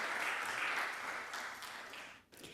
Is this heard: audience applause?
yes